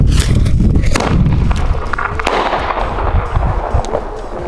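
A crisantemo firework rocket being set off, with a dense string of sharp cracks and booming thumps bursting loudly one after another over a rumbling background, close and without talk.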